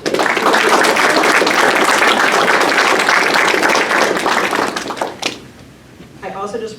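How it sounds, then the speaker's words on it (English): An audience at a Rho Kappa social studies honor society induction claps loudly for parents and guardians, a dense round of applause that fades after about five seconds, followed by a brief bump and then a speaker talking. "we have a quick round of applause for the parents and guardians that are here"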